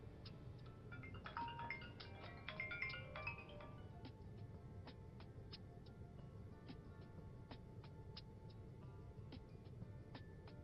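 A telephone ringtone plays in a bursty electronic melody and then continues as faint repeated ticking tones of an unanswered call. The sound sits over a low steady hum and is quiet and somewhat distant, with no voices.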